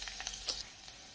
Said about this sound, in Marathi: आपण कढईत तेल तापत ठेवलेलं आहे, त्यामध्ये घालून घेणार आहोत लसूण